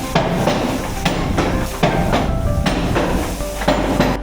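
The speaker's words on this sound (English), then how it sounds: "Wooden hammers and gears operate much as they have for hundreds of years." Wooden hammers of a water-powered paper mill in a Basel museum pound in a steady, even rhythm, about one heavy thud every 0.7 seconds, close and loud over continuous machine and water rumble.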